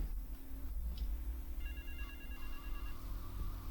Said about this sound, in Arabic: نرد على التليفون ولا نخش؟